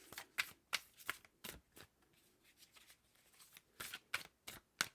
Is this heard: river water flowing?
no